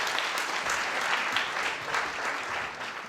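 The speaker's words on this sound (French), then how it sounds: "On peut applaudir Julien s'il vous plaît." An audience at a live comedy show applauds a volunteer, with sustained, fairly loud clapping that stays dense throughout and eases off slightly at the end.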